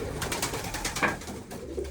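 Mülemans pigeons coo in soft, repeated low calls, close by and fairly quiet, with no talking.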